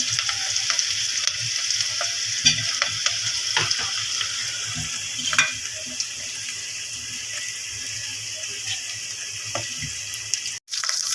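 Steady crackling sizzle of onions frying in hot oil, with scattered pops and spits, close and continuous, no talking.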